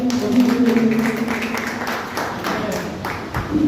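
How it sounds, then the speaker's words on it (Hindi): Clapping from an audience at a seminar, a dense patter of many hands that fades partway through, with a voice and a steady hum underneath. "एक बार ताली बजा दीजिए।"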